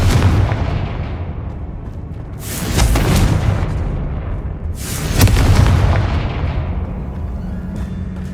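Two loud booming blasts from the Confringo fire spell in the PS5 game Hogwarts Legacy, each a sharp burst with a rumbling tail, set against a steady low game ambience.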